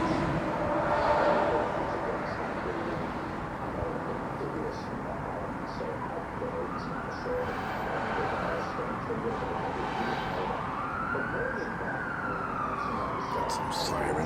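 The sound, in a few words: emergency vehicle sirens in the background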